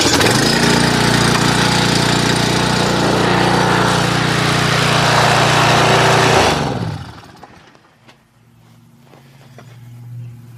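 A Briggs and Stratton pressure washer engine runs loud and steady close by for about six seconds, then cuts out and winds down, leaving faint quiet afterward.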